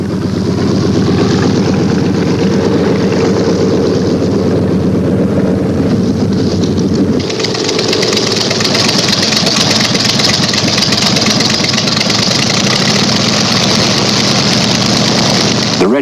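Engines of an Allied transport plane, a loud continuous drone with a steady throbbing tone that brightens into a harsher, hissier roar midway, with no voices.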